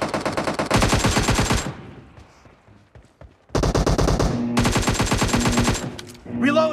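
AKM assault rifle fire in a video game: two long rapid automatic bursts separated by a brief pause, loud and close, with a short further sound at the end.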